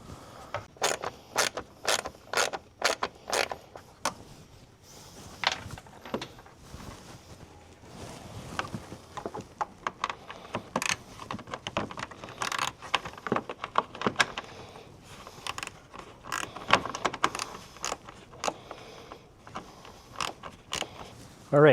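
Removing 8mm screws from a Harley turn signal housing during a RAVEK Speakeasy signature light kit install: scattered close metallic clicks, ratcheting and creaks in irregular bursts, with faint talk between the mechanical sounds.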